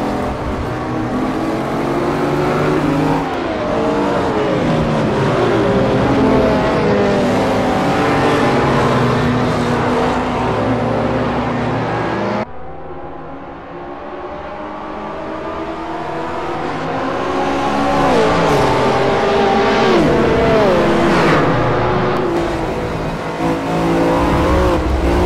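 A Lamborghini Diablo VT engine screams through gears in Assetto Corsa racing, loud rising and falling revs with shifts, a brief dip mid-run then climbing again, tyres squealing under the sustained howl.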